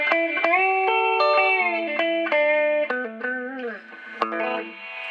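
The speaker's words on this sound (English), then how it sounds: "Just hear the reverb goes up quite a way actually. It's a spring reverb." Electric guitar through a 1980s Award Session Rockette 30-watt solid-state amp with its spring reverb turned up, bent and sliding notes with sharp pick attacks ringing out into a reverberant wash, played alone.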